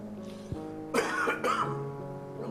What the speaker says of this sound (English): I didn't want to say it till I coughed for the first time, but I've got the flu